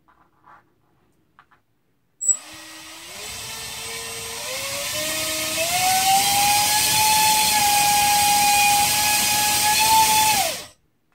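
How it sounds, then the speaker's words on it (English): DYS 1306 3100kv brushless motor spinning an HQ propeller on a thrust test: a sudden start, then a high whine that climbs in steps and holds steady near full speed before cutting off abruptly, loud and close. "this is the 3100 kV motor with the HQ prop."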